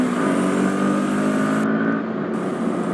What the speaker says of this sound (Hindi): अभी देख लो कुछ नहीं तो ओवरटेक करते हैं।